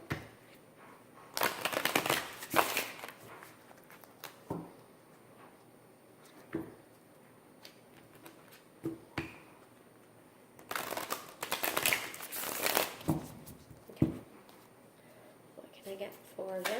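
A deck of animal cards is shuffled in two close, brisk bursts of riffling and flicking, with scattered card taps between them and someone talking throughout.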